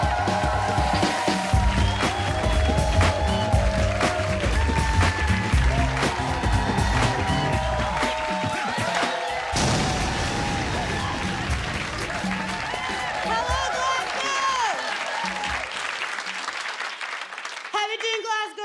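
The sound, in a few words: audience clapping and cheering at a comedy show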